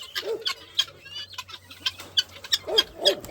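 A rooster and other chickens cluck and squawk in short, scattered bursts close by, with a faint low hum underneath and no talk.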